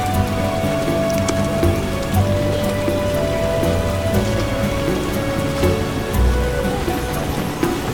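Steady rain falls in The Witcher video game, a loud, dense, continuous patter with low rumbles beneath and no voices over it.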